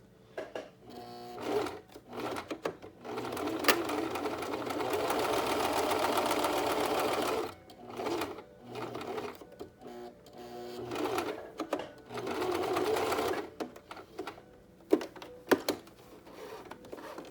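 A sewing machine stitches along the folded seam of a fabric no-fog face mask, running in several close bursts of whirring separated by short pauses, with no talk over it.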